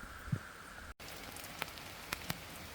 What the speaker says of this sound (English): I would think this is proper rain